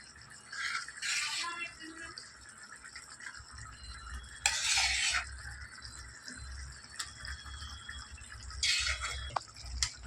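Gongura leaves go into a pan of prawn curry and are stirred, with scraping and soft clattering bursts over a low steady simmer, with no speech.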